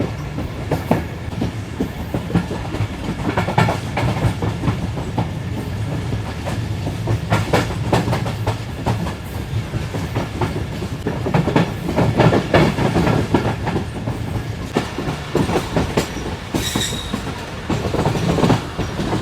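Karakoram Express train running along the Rohri bypass railway track in Pakistan, a steady loud rumble of wheels with rhythmic clickety-clack and brief squeals, close and continuous with no talking.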